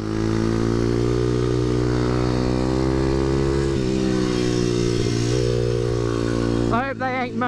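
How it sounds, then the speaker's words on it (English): Supermoto pit bike with its exhaust baffle removed, droning loudly and steadily at a track day, then blipping sharply in quick revs at the end, with voices over the engine. "I hope they ain't moaning about the exhaust"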